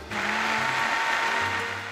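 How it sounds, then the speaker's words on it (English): An electric blender whirs steadily as it purees chiles with their soaking water for mole sauce, a loud continuous motor hum that shifts pitch slightly, no talking. "So we blended our mole"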